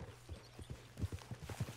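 Hooves of a large horse in the Red Dead Redemption 2 video game clop steadily at a walking pace, close and fairly loud, with a low background hum and no talking.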